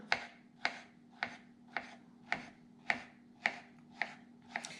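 A knife slices through Hell's Best cantaloupe on a cutting board, giving about nine evenly spaced, crisp strokes close by over a faint steady hum, with no voices.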